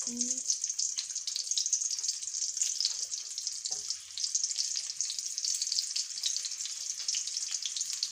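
Shallots fry in oil for a dried fish head chammanthi, giving a steady bright hiss of bubbling fat that stays close and even, with a faint brief voice-like tone at the start.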